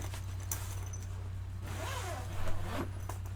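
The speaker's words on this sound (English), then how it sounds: "Nice, easy zipper." A zipper drawn open along a guitar gig bag for a Donner DST-200 electric guitar, a short close rasping run in a couple of pulls over a steady low hum.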